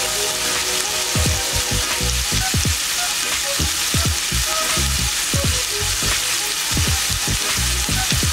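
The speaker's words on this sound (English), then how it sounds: "Can you hear my pot sizzling?" Loud, continuous sizzling and popping of ham frying in a pot, close up, with crackling bursts throughout and no voices.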